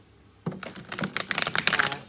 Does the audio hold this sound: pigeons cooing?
no